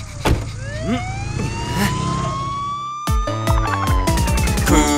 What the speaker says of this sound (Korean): 구급차가 달려요.